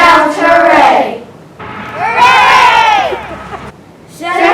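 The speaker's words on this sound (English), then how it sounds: "First grade shouts hooray." A crowd of first grade children at a school pep rally shouting hooray in loud, ringing bursts, with short pauses between the shouts.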